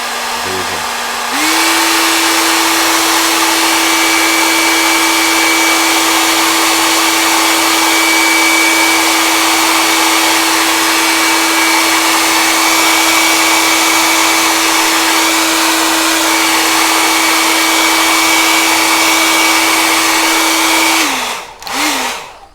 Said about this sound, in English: I'm going to give it a little hair dry, just so I can show you the finished version